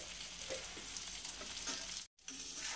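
Neem leaves and eggplant frying in ghee in an iron wok with the gas off, a close, steady sizzle with stirring scrapes and a brief silent gap near the end, no voices.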